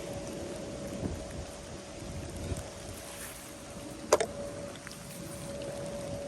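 Steady rain falls during lure fishing for pike near trees on the water, a continuous soft hiss with a brief sharp knock partway through, and no talking.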